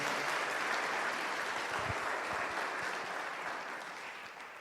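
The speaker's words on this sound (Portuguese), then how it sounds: "Vamos aplaudir a Jesus pela vida do Maxwell." A congregation at a church service applauds steadily, a dense wash of clapping that fades slightly toward the end.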